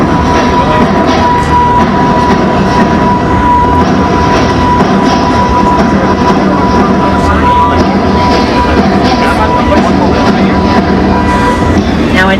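A Universal Studios Hollywood tour tram rolls along at loud, steady volume, its rumble and rattling clatter continuous throughout, with a guide talking over the noise.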